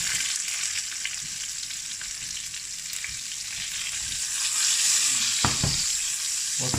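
Onions sizzle steadily in a hot pan for chicken mafé, a bright continuous frying hiss broken by a few scraping stirs toward the end, close and with no talk.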